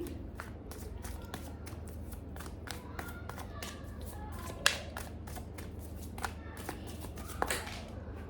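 Tarot cards being shuffled by hand, a steady run of soft, close papery flicks and riffles with a few sharper snaps, over a low constant background hum.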